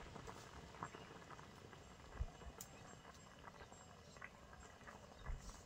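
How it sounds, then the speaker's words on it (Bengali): A pangas fish curry simmers in a pot, giving faint, soft bubbling with scattered small pops and light patters at close range. "তরকারি ফুটে উঠেছে"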